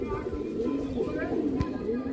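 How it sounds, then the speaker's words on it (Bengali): Andhra pigeons coo in a loft, a soft, continuous, rolling murmur from nearby birds, while people talk over the cooing. "আন্ধ্রা পায়রার এটা বৈশিষ্ট্য, একটু অতিরিক্ত ডাকে।"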